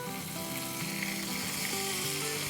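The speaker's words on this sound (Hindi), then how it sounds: "साइड में करने के बाद हम इसमें अपना 2 टेबलस्पून सोया सॉस डालते हैं" Soy sauce sizzling and frying steadily in a hot pan for a curry khowsuey sauce, a dense continuous crackle with no talk.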